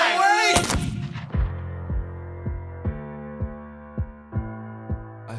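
A stage pistol gunshot in a Hamilton musical number, a single sharp loud crack followed by a decaying echo, then a steady low pulsing musical beat.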